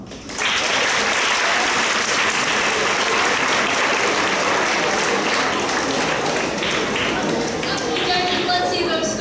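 Audience applause fills a school spoken word poetry event for grades 9 and 10, a loud, steady wash of clapping that starts abruptly and holds throughout with scattered whoops, then thins slightly near the end.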